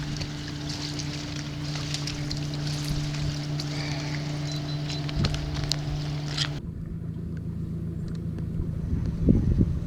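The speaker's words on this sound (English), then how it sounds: "We decided to troll a little bit with the gas motor just for fun." A gas outboard motor runs steadily on a boat trolling for white bass, giving a continuous mid-distance engine drone with a constant hum, under wind noise and with no talk.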